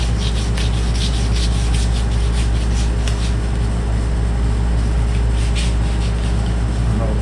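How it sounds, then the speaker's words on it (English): Continuous hand sanding with sandpaper on a part of a 1977 Pontiac Trans Am, a steady loud rasping scrub with rhythmic back-and-forth strokes over a low background hum. "See if we can smooth it out a little bit with some sandpaper."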